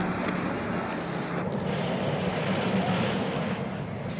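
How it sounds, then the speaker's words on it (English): A private jet takes off, heard as a steady, loud broadband engine roar with wind-like rushing that holds constant across several seconds, with no voices over it. "Bill is on Dr. Romero's plane, and it's taking off"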